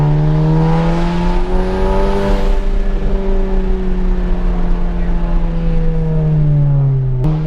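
Straight-piped VW MK7 exhaust driving through mountain roads, a loud, steady, raspy drone with a rising and falling engine pitch, captured close from inside the car and dominating throughout.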